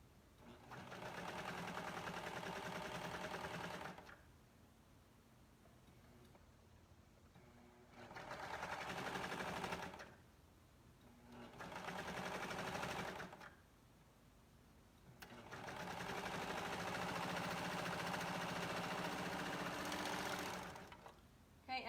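A sewing machine stitching a dress neckband in three long bursts of fast, even whirring, with quiet pauses between runs and no talk.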